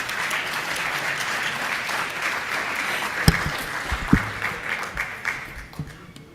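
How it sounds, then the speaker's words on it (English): Conference audience claps at an official launch event in Philadelphia, a dense, sustained round of applause that holds steady and then thins toward the end, with a few louder individual claps. "let's give Michael a round of applause"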